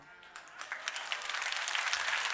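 Applause from a seated audience at a talk on direct-selling success, building from scattered claps into a steady, moderately distant wash of clapping.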